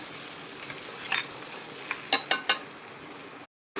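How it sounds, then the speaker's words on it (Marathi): Cluster beans stir-fry with masala over a full gas flame, a steady sizzle broken by several scraping spatula strokes, loudest near the end before cutting off abruptly. "छान अशी परतवून घ्यायची फुल गॅसवरती 5 मिनिटं गवार."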